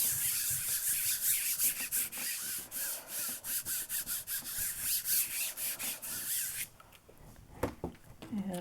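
A baren rubbed hard over the smooth side of paper to transfer a print gives repeated scratchy, brushing strokes in a steady rhythm, close and fairly loud, ending in a few rustles and a bump.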